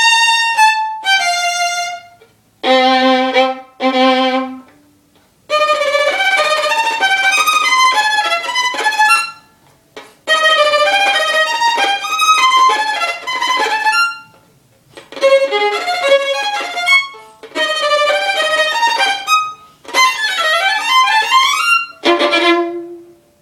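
A solo violin plays the second violin part of a test excerpt, measures 147 to the end, in loud bowed phrases of quick runs and sustained notes separated by short pauses, heard alone.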